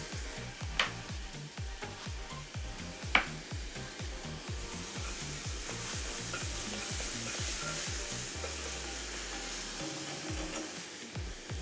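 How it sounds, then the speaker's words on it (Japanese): Onions stir-fried in a pan for a miso curry milk ramen soup base, a soft steady sizzle broken by a regular rhythm of scraping stirs and a couple of sharp clicks, close and moderately quiet. "ちょっとしっとりするまでしっかりと炒めていきます"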